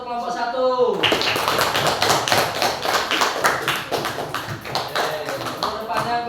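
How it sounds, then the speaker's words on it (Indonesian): A classroom of students applauds for the top-scoring group, dense steady clapping from many hands filling the room for several seconds after a brief spoken lead-in. "kita kasih tepuk tangan untuk kelompok 1"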